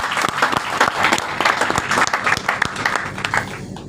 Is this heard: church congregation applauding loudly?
yes